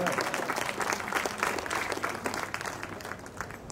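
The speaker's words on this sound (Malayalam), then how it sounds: "നല്ലൊരു കയ്യടി കൊടുക്കാം." Audience applause at a Star Fiesta prize-giving for badminton winners, continuous crowd clapping at moderate volume throughout, slightly distant in a large room.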